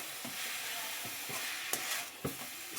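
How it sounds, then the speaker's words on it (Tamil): Spinach stir-fry being stirred in a pan, with a steady sizzle of frying and a few distinct scraping strokes of the spoon, close and fairly quiet, with no talking. "இப்போ நல்லா கிளறி விட்டுறலாம்"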